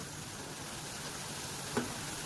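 Small chitti bajji fritters fry in oil over a low flame with a steady, soft, dense sizzle that stays even throughout, broken by a single brief clink near the end, with no voices.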